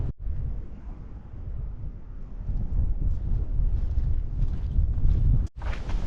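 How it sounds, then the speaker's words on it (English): Gusty wind on a hillside path on the South Downs near Ditchling Beacon, a steady low roaring buffet against the microphone that swells and briefly drops out near the end. "Windy."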